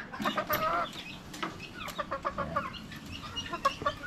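Chickens cluck steadily from a mother hen with her chicks, close by in a backyard flock, a busy run of short clucks and chirps with no talking.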